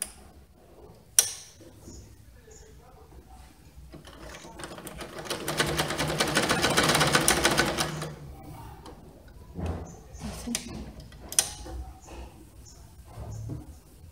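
A sewing machine stitching a fabric hem runs in a steady, moderately loud burst in the middle, with quieter ticking and handling sounds before and after.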